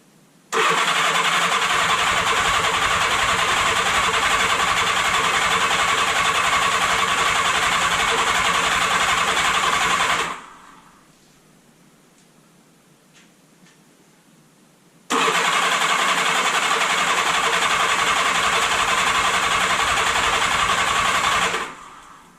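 A Honda GL1000 motorcycle engine cranks with a loud, steady starter whir for about ten seconds, falls quiet for several seconds, then cranks again just as loudly for another seven seconds before stopping.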